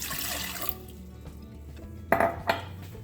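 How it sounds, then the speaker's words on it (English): Warm water poured into a container to start a dill pickle brine, a brief liquid splash followed by two short clinking bursts of kitchenware, close and fairly quiet. "To start the brine, according to the conversion, I'm going to add 8 ounces of warm water."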